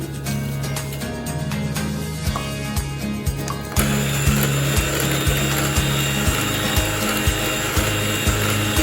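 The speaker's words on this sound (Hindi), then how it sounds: "बाकी हमने इसको डिब्बे की मदद से बीट करना शुरू कर दिया" Sugar being beaten into cake batter for a marble cake, mixed with the help of a tin container; a loud, steady mechanical whir with rhythmic low thumps, growing louder and denser partway through, with no talking.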